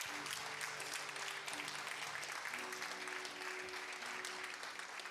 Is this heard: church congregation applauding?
yes